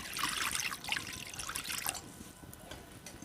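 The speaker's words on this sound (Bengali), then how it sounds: "কড়াইতে দিয়ে দিচ্ছি পরিমাণ মতো জল।" Water pours into a wok on the stove for boiling peas: a soft, splashing stream for about two seconds, then fading to faint trickles and drips.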